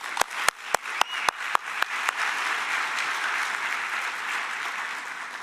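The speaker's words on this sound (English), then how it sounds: "Just maybe a warm welcome and applause." Applause at a harm-reduction conference plenary as the chair is welcomed, opening with a few sharp, separate claps that quickly swell into a dense, sustained wash of clapping from the crowd.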